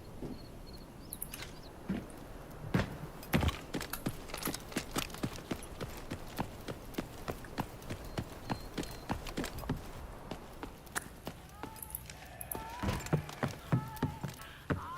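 Multiple players' footsteps in the Chinese shooter game Delta Force, rapid overlapping steps sounding near and loud on hard flooring around an upstairs corner by a staircase, a steady clattering rhythm throughout with no talk.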